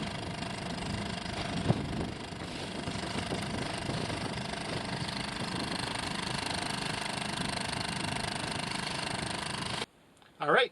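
A Honda 2.3 horsepower outboard motor runs at a steady drone on a boat, joined by wind and water noise, with a brief knock partway through, then cuts off near the end.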